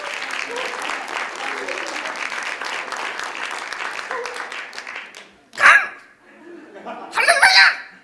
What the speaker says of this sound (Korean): 우리 객석 계신 여러분, 박수 해주세요.